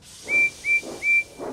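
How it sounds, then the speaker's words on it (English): A cartoon steam locomotive gives three short, bright whistle blasts in quick succession, each wrapped in a soft hiss of steam, with a fourth puff of steam trailing off. "Percy whistled loudly."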